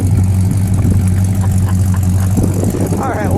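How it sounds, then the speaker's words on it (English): A 1960 Plymouth Fury convertible engine runs with a low, steady exhaust rumble and a few light revs near the end, heard loud and close. "Low master exhaust."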